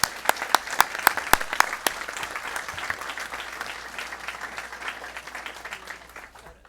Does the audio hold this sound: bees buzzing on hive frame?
no